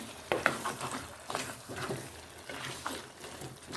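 Fried sardine mixture stirred in a pan, with repeated scraping strokes and a soft sizzle running underneath at a moderate, close level.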